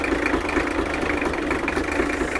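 The engine of an old Dodge truck, abandoned for 28 years in a French wood, runs in a rough, steady idle with a low throbbing pulse, loud and close, with no talk over it.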